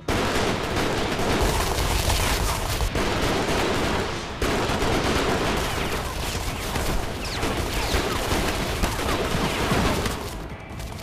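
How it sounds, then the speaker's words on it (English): Dense artillery and gunfire barrage in the video game Sengoku Basara: Samurai Heroes, continuous loud volleys and blasts layered over game sound effects for the whole stretch, with a brief lull near the end. "You're no match for my artillery."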